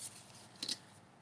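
Scissors snip through a paper envelope during a craft project, giving one short, faint crisp cut close by in an otherwise quiet room.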